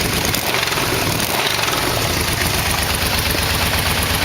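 A Yamaha VMAX motorcycle engine idles loud and close through new exhaust mufflers, a steady dense rumble with an even, unbroken throb.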